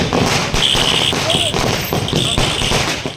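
Firecrackers burst at a community celebration by members of the Madiga community near the Ambedkar statue at the Devanahalli taluk office premises. Sharp pops come among crowd noise and a steady high tone, with voices talking throughout.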